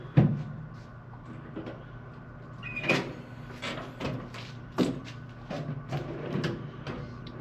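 Drawers on a Harbor Freight US General four-drawer metal tool cart slide and shut, giving several separate clunks and rattling metallic bumps at irregular intervals, close and moderately loud, with no talk.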